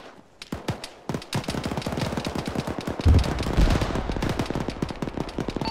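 Rapid automatic machine gun fire in the military shooter Arma rattles out in long, dense bursts of closely spaced sharp shots, loud and near, with heavier thumps partway through.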